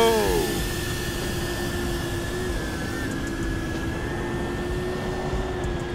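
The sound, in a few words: Betafpv PAVO30 FPV drone flying, lifting a GoPro 8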